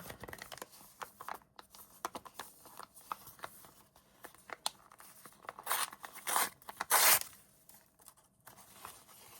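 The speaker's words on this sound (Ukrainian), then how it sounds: "Шкода рвати пакетики" Crinkly tearing and rustling of paper packets, several sharp rips in quick succession amid quieter handling noises.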